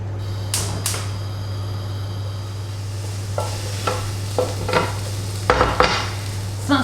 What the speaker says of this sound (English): Now I will just brown these off before I put anything else in